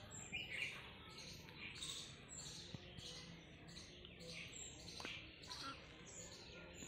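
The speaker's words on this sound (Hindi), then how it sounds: "चिड़ियों की आवाज़ मधुर आवाज़" Faint birds chirping and tweeting repeatedly in the distance over a low, soft background.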